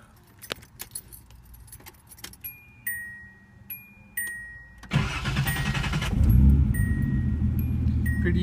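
A 1980 naturally aspirated Datsun 280ZX with a dish-piston engine and N47 head: keys jangle in the ignition, then the starter cranks and the engine fires and settles into a loud, steady idle close by.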